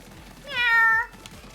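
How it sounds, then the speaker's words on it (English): A cat gives a single clear, fairly loud meow lasting about half a second, rising then falling, alone against quiet room noise. "He go meow."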